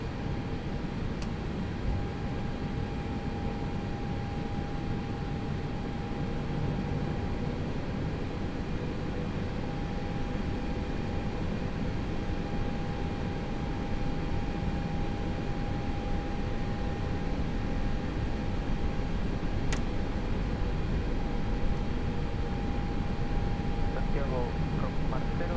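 An A320 airliner taxis in X-Plane 11, its steady, droning cabin engine hum holding constant throughout, with faint tones and a quiet click along the way.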